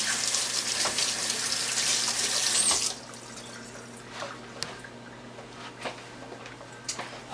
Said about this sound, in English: I don't know what I keep rinsing my hands for